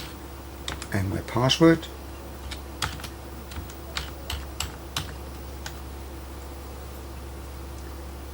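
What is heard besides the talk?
typing on a computer keyboard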